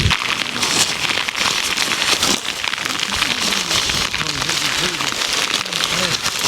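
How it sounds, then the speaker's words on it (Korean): Heavy summer rain pours steadily onto a backpacking shelter high on Gariwangsan mountain at 1,571 m, a dense, close hiss of drumming drops, with voices faintly talking beneath it. "이게 비가 엄청 쏟아져가지고 갑자기 다 젖었는데"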